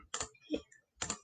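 A computer mouse clicks three times in quick succession while shift is held in Floorplanner: sharp, close, quiet ticks with a brief pause before the last one.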